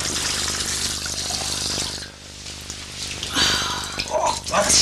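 Water runs from a tap in a steady splashing stream that shifts in tone partway through, heard close with voices speaking over it.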